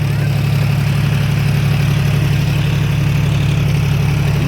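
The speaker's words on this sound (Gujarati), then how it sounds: "મારે ટ્રેક્ટર હાંકવું છે" A tractor engine runs steadily while being driven, a loud low droning rumble with constant vibration and no change in pace, close by and without speech.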